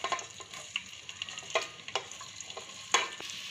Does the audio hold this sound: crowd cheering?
no